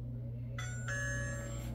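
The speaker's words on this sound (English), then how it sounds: "Now we can go and ring the doorbell" The doorbell of a Satella Power US23 Ultra smart lock rings, sounding two clear electronic chime tones in quick succession that ring on evenly over a steady low hum.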